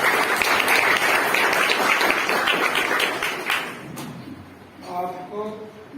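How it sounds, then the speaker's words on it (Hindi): An audience gives a loud, sustained round of applause to welcome a guest at a public event. The dense clapping fades out after about four seconds and leaves quieter room sounds and a brief voice. "महाराष्ट्र की तरफ से हम लोग सब आपका तालियां बजा के स्वागत करते हैं"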